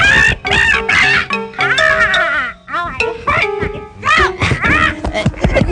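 A person voicing a cheering chicken mascot, loudly imitating clucks and crowing in a rapid, rhythmic string of squawks, close and dominant.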